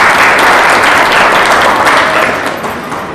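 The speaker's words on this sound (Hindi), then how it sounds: "ताली बजाएं परमेश्वर पिता के लिए।" A church congregation applauds together, a dense, steady burst of hand clapping that fills the room and slowly fades toward the end.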